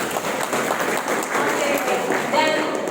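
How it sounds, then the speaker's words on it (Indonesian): Audience clapping at an event opening ceremony, a short steady burst of applause from a crowd in a hall. "Tepuk tangan Mas Dewi."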